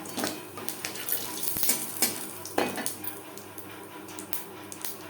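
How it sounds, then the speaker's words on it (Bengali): Whole cumin seeds frying in fish-frying oil as the tempering for a chala fish curry, with a steady sizzle under intermittent stirring clinks and scrapes of a utensil against the pan. "পনেরো কুড়ি সেকেন্ড জিরে ভেজে নেওয়ার পর দিয়ে দেবো পেঁয়াজ টমেটো"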